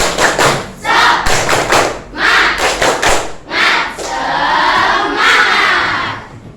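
A class of students performs the rhythmic 'tepuk semangat' spirit clap in a classroom, bursts of group clapping and thumps in a patterned rhythm with shouted chanting mixed in, loud and close, with a short pause midway.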